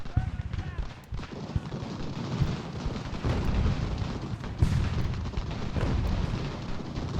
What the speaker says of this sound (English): The mortars do not seem to be doing an awful lot.